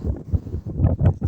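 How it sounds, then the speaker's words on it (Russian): Strong wind gusts roar and buffet the microphone during ice fishing on a reservoir in a snowstorm, steady and loud with no voices. "Ветер конкретный."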